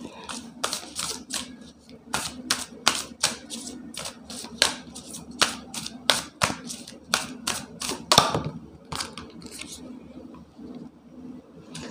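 A deck of tarot cards is shuffled close by, giving crisp, rapid snapping and riffling bursts in irregular clusters while a voice talks over it.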